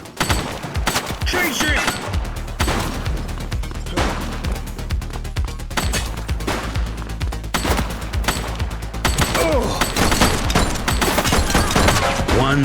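Dense gunfire from a firefight in The Precinct, a police video game, with rapid bursts of shots crackling over a low rumbling score, loud and close throughout, while a voice shouts briefly.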